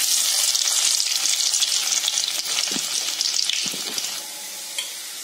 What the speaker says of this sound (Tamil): கடாயில் ஆயில் ஊற்றிக்கோங்க. ஆயில் சூடாகிட்ட பிறகு இப்போ பூண்டு சேர்த்துக்கலாம்.